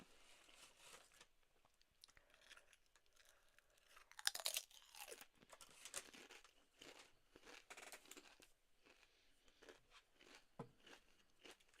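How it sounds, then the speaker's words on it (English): Someone eats a crunchy food up close, with quiet, irregular bites and chewing crunches spread throughout and one sharper, louder burst of crunching partway through. "The crunching isn't too loud,"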